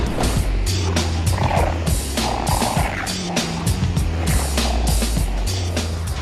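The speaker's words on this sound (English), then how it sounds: "He used a clap sound and passed through granular synthesis came up with that." A dense, rumbling granular texture made from a clap sound run through granular synthesis, chopped fragments smeared into a continuous whooshing roar with flickering bursts, loud and steady throughout.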